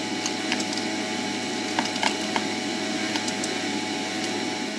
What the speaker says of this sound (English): Now with the motor just ticking over on 1, we are going to add our little white chocolate buddies and incorporate them